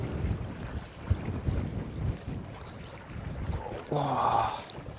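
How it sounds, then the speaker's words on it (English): Cold wind buffets the microphone on a seashore during lure fishing on the Isle of Skye, a loud rumbling roar with gusts, rising near the end. "That wind's Baltic, by the way."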